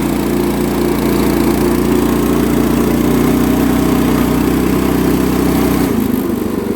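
Garden tractor with a 30 series engine driving through snow, its engine droning steadily and loud up close before the pitch drops sharply near the end as it shifts or brakes.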